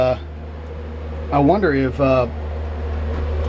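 A heater blower in a 1951 Ford F1 truck hums steadily in the cab as a low, even drone, with a brief voice speaking over it midway.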